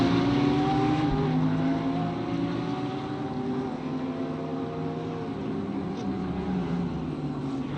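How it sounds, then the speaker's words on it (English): A Porsche race car engine in the RaceRoom racing game at Bathurst holds a steady, droning note with slowly shifting pitch, moderately loud and with no voices. "the Porsche of Coghlan, absolutely love the sound of that engine."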